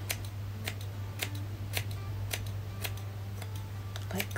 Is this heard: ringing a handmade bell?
no